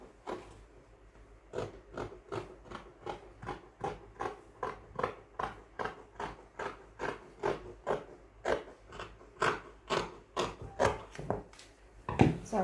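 Scissors cutting fabric for a senator sleeve opening, a long steady run of crisp snipping strokes at an even rhythm, close and fairly quiet.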